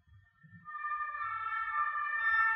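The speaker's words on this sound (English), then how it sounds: "Oops, sorry about that siren." A French emergency vehicle siren wails steadily with a rising, sustained tone, growing louder as it nears, with faint low rumbling underneath.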